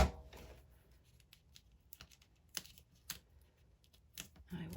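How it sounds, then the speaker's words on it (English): Spellbinders scissors make quiet, sparse snips and clicks, close and faint, with soft handling rustles between cuts. "I love these scissors from Spellbinders."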